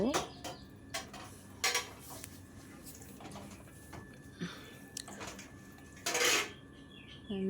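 Washed fish roe being moved onto a plate, with scattered close clinks and scrapes of utensils and dishes, a few louder clatters and a burst of handling noise near the end, no speech.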